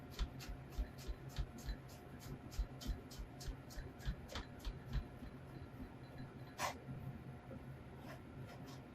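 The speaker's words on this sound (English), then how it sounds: "we're just going to cut it literally into ribbons" Knife slicing rolled leaves into thin ribbons on a cutting board, a quick rapid run of soft close chops with short sharper taps scattered through, steady and fairly faint throughout.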